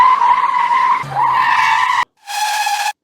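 A screechy, gritty synth lead resembling a tire screech on pavement holds bright sustained tones, briefly drops out, then returns for a final loud burst.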